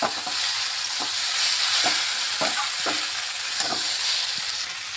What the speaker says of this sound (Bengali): ধনেপাতা দিয়ে একটু ভাজা ভাজা করে নিলেই হয়ে যাবে।